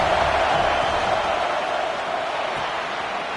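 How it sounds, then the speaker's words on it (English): Alabama's home crowd at a college football stadium roars on third down, a loud, dense, unbroken wall of noise that holds steady and fades slightly toward the end. "The Tide crowd rolling noise down onto Saban Field on 3rd down."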